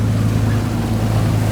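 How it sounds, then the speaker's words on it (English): Steady splashing of water against the hull of a boat on a trip near Cambridge, Maryland, with a constant low motor hum underneath, continuous and close throughout. "I'll show you guys what's going on the side of the boat since you hear all the splashing and stuff."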